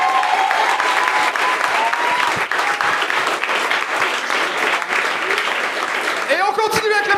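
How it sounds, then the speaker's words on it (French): A game-show studio audience breaks into loud, sustained applause that stays dense and steady throughout, mixed with crowd voices and cheering. "un tonnerre d'applaudissements pour Oussama"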